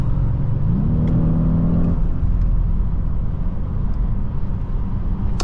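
A 2015 Audi S8 with a 4.0T V8 and Quattro drive accelerates hard from inside the cabin, a loud steady engine drone whose pitch rises and then holds over constant road rumble.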